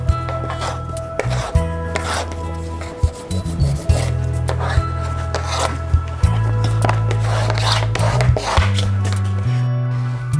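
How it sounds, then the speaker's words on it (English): A bone folder and fingers rub and press a book cover's fabric tight around its edges and corners during hand bookbinding, giving steady scraping, rasping strokes in a continuous loud run over a low background hum. "I'm using my fingers and the folder to get it nice and tight around the edge"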